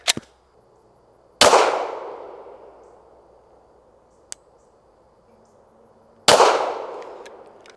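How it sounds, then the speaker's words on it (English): Two sharp, loud gunshots from a Palmetto State Armory Dagger 9mm handgun firing 124 grain rounds, spaced several seconds apart with ringing decay after each, plus a small click between them. "now we're gonna try some 124 grain 9mm fired out of the Palmetto State Armory Dagger"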